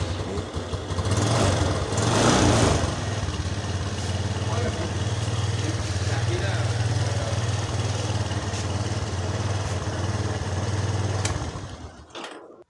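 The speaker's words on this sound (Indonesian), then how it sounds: "kita akan coba dinamo starternya" A motorcycle being run on a tested starter motor makes a loud, steady engine drone close by that holds evenly for about eleven seconds before cutting off abruptly.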